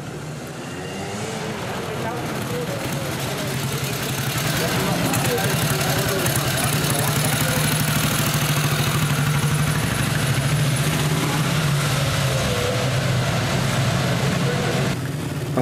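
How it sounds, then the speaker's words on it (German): Running four-stroke engine of a vintage D-Rad motorcycle built by Deutsche Werke Spandau at a classic motorcycle rally, a steady, loud, continuous thrum close by with a voice talking over it. "Ein D-Rad-Viertakter der deutschen Werke Spandau."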